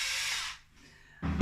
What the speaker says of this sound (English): my automatic screwdriver